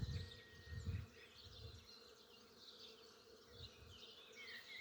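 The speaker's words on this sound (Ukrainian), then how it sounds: "який гул стоїть бджоли" A soft, continuous buzz of bees gathering nectar on flowering acacia fills the air, with low thumps of wind or handling early on and no voices.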